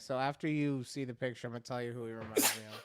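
A person talks, then a sharp sneeze bursts out near the end, close to the mic.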